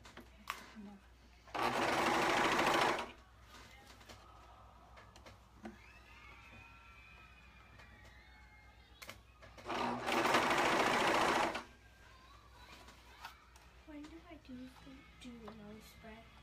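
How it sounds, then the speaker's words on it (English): A sewing machine stitches a dress costume made from a pattern, running in two loud, steady bursts of rapid whirring, with quiet talk and handling noises in the pauses between. "let's start sewing this one in"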